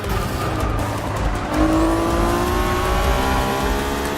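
Honda NSX-R race car engine in the video game Forza 6 drones loud and steady, its pitch shifting as the car climbs into sixth gear, with continuous engine roar throughout and no talking.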